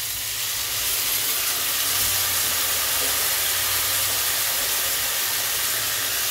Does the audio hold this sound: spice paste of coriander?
yes